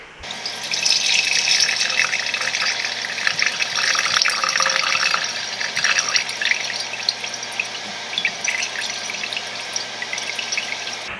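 A steady, continuous pour of lemon juice through a strainer into a pitcher, close and fairly loud, tapering slightly toward the end.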